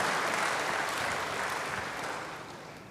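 A church congregation breaks into full applause during a sermon, a dense, sustained roar of clapping that fades slightly toward the end, with no speech on top.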